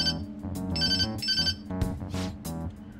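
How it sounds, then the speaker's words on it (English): A phone rings in the Persona 5 Royal video game, a melodic electronic ringtone repeating in a steady bright pattern, loud and alone without speech. "I'll call his phone."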